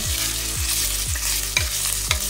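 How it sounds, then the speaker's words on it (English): Carrots sauteing in oil in a soup pot over a lowered flame, a loud steady sizzle broken by five regular scraping stirs about half a second apart. "We're going to lower the flame a little, and we're just going to saute them"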